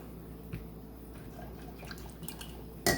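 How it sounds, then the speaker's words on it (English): Lemon juice is added to a herring salad, with soft drips and small liquid splashes against a light background hiss, ending in a brief louder clink or squish, with no talking. "I add some lemon juice."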